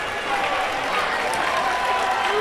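A basketball crowd stands and cheers through a district tournament championship game's final seconds, a steady, dense roar and applause with an announcer talking over it.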